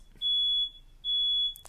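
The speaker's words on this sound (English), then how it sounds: "That's the fire alarm." Fire alarm sounds two loud, piercing high-pitched beeps in quick succession, each about half a second long, clear against a quiet room.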